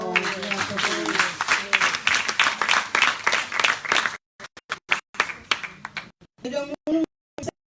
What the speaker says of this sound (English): Another hand of applause for our performance.